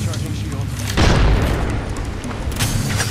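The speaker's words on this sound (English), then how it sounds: "I just got hit with a grenade." Grenade blast in the video game Apex Legends: a sudden loud boom about a second in, with a low rumbling tail under continuous game noise and faint voices.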